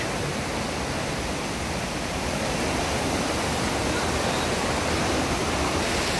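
A loud, constant rush of water gushing out of a cave, dense and unbroken throughout, with no voices.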